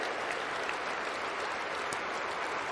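Sustained applause from a large hall audience during Putin's 2024 address, a steady, even roar of clapping heard at a distance and at low level, with no break across the few seconds.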